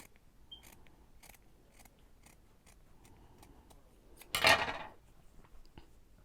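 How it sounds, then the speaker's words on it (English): A single crisp snip of scissors cutting, loud and close, after a stretch of faint ticking background noise. "I'm going to get my scissors."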